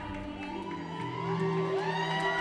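Crowd cheering and whooping at a Fred Astaire Dance Studios professional ballroom competition, heard from a distant ceiling-mounted camera, a steady roar of voices that swells louder midway and holds over sustained ballroom music.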